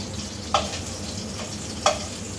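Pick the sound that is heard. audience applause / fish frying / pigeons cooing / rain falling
fish frying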